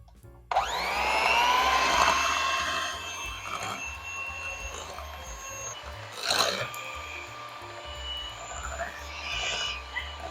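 An electric mixer runs steadily through cheesecake batter in a bowl, a loud continuous whir starting abruptly and holding for several seconds before dropping to lower, uneven mixing with a few knocks against the bowl.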